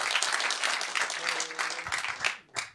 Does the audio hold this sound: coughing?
no